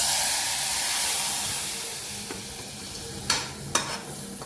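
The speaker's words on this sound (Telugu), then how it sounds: "పోపు అయితే మంచిగా వేగిపోయింది" Asafoetida and curry leaves fry in hot oil for a tempering, a loud hissing sizzle that fades gradually, followed by two sharp clinks of a utensil near the end.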